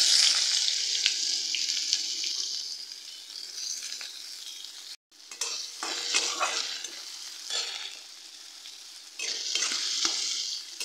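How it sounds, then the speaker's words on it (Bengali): Chopped onion frying in a hot pan of whole cumin and spices for a rohu fish curry, a steady close sizzle with stirring scrapes and a brief pause midway before the sizzling resumes. "এবারে পেঁয়াজ কুচি দিয়ে দিচ্ছি"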